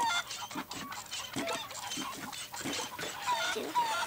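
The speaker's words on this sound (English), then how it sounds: "Ed, let the chickens bathe in privacy." Cartoon chickens in Ed, Edd n Eddy, a string of rhythmic clucks and squawks over a busy animated soundtrack, with voices talking over them.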